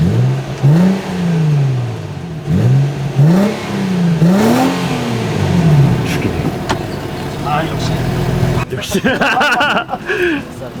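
A Nissan Skyline V35 V6 with a Fujitsubo exhaust revs repeatedly up and down nearby, several rising and falling pulls, with people talking between and over the revs.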